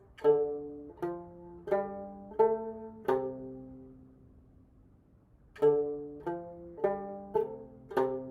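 Plucked dranyen lute notes in two ascending pentatonic runs of five tones, each note ringing clearly, separated by a pause where the last note decays.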